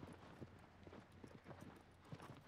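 Quiet, steady clip-clop of horse hooves at a gallop in the video game Shadow of the Colossus, a fast repeating rhythm over a soft background hum.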